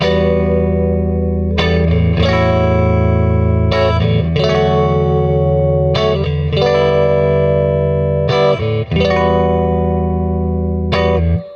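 Johnny Marr Jaguar electric guitar strummed through chorus, distortion and reverb effects, loud sparkly chords restruck roughly every two seconds and ringing out between strums, with no voices.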